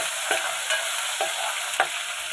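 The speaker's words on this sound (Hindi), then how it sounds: "अदरक लहसुन के पेस्ट को थोड़ा लाइट गोल्डन ब्राउन होने देंगे" Ginger garlic paste fries in hot oil in a pan for Hyderabadi green chicken, giving a steady close sizzle with a few soft scrapes of a stirring spoon.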